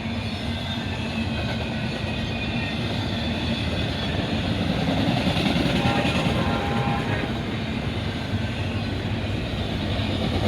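A freight train of mostly pups and 53-foot containers rolling past on a busy line at Oak Harbor, Ohio, a steady loud rumble of wheels and cars throughout, with a horn less distinct.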